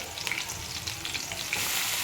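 Grated potato frying in hot oil with cumin and chilli in a kadhai, a steady close sizzle with scraping stir strokes running through it, no talk.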